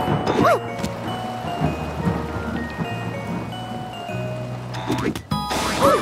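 A cartoon thunderstorm with rain plays in a Car City World baby cars and trucks app, with soft steady rain and low rumbling under a spoken voice and a few bright tinkling effects.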